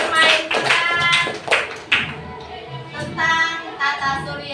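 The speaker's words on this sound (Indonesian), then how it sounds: "inilah kita tepuk tangan dulu untuk kelompok 1" Students in a classroom clap for a group of classmates, with uneven bursts of hand claps rising and falling under some voices.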